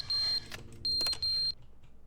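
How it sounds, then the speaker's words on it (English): A harsh, high electronic beeping in a video game, sounding as three separate tones: a short beep followed by two longer ones close together. They are loud and clear, with no talking. "Obnoxious beeping noise."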